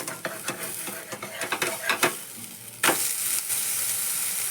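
A bajra and methi dosa sizzles on a hot oiled pan just after being flipped, with a few scraping spatula taps and then a sudden, louder, steady frying hiss that carries on to the end.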